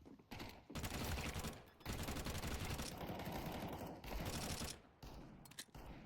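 A FAMAS rifle fires in Counter-Strike, several rapid bursts of fairly close shots separated by brief pauses, the bursts varying in length.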